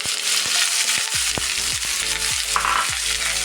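Finely chopped onion fries in oil with mustard seeds in a pan, giving a steady close sizzle broken by rhythmic spatula scrapes and stirring strokes.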